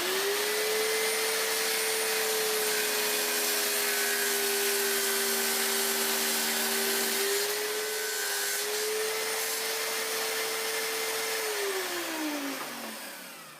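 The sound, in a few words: power tool cutting scrap wood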